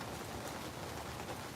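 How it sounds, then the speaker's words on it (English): Rain falls steadily outdoors as a soft, even hiss of drops, distant and faint, continuous with no talk. "Ooh, it's raining."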